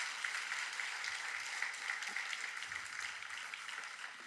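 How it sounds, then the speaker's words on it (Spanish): A church congregation claps during a Spanish-language sermon, a steady, moderately loud wash of many hands that holds evenly throughout without speech. "Alguien podría darle un aplauso al Rey de Reyes en esta hora"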